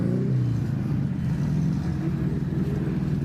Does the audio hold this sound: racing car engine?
yes